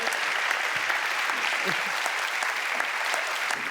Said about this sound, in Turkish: Alkışınız için çok gerçekten sağ olun.